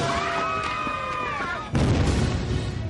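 Documentary footage of a nuclear war: a loud, deep explosion erupts and rumbles on, following a stretch of tonal, wavering sound.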